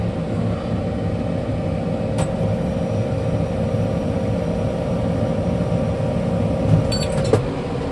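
A tractor's engine runs steadily while baling alfalfa with a New Holland Roll Belt 460 baler: a continuous low mechanical drone close by, with a couple of short metallic clicks near the end.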